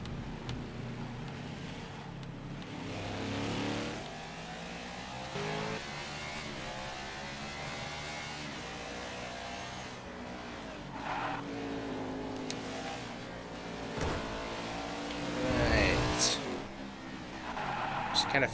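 A NASCAR race car engine in the video game NASCAR 21 Ignition at Homestead drones and revs through shifting pitch, with occasional higher whines and skids, while a person talks over it.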